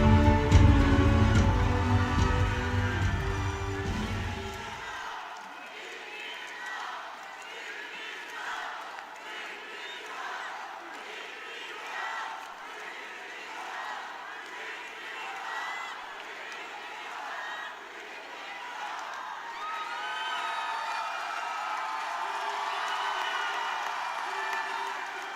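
Crowd at a Democratic Party leadership campaign rally in Incheon cheers and applauds to welcome a candidate; a loud burst at the start gives way to a steady, sustained roar of clapping and shouting throughout.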